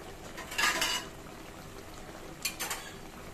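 Cooked boal fish lifted from the pan into a bowl, two brief soft clinks and scrapes of utensil on cookware about two seconds apart, faint over a quiet background hiss.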